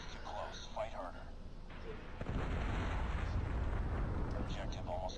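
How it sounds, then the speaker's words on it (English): A predator missile explosion in the Call of Duty Mobile game, a sudden loud broadband blast that swells into a sustained rumbling roar for several seconds, with voices heard faintly over it beforehand. "Be advised, hostile predator missile inbound"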